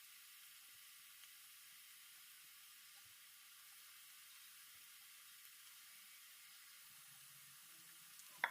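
Balls of unde pakoda batter frying in hot oil until brown, making a faint, continuous high hiss and sizzle with a brief clatter at the very end.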